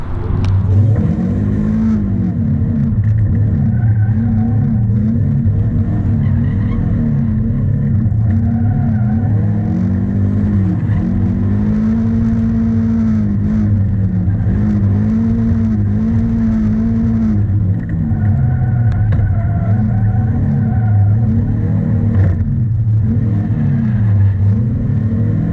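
A Caterham Seven sports car engine revs and wails continuously, rising and falling in pitch as it drifts through figure-of-eight turns, loud and close throughout without speech.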